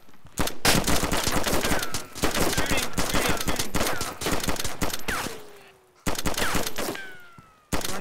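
Heavy gunfire in the survival game DayZ, loud dense bursts of rapid automatic shots and echoing cracks filling nearly the whole stretch, with short gaps between volleys.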